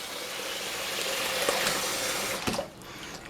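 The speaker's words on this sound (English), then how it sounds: "you want to cover the fish completely with water." Tap water pours steadily into a plastic bag to cover cleaned bluegill fish fillets for freezing, a continuous close splashing flow that shifts in pitch near the end as the bag fills.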